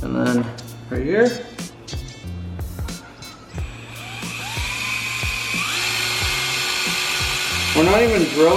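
A power drill whines in bursts against a car's metal body while friction drilling, with ratcheting clicks and rising mechanical tones, loud and close.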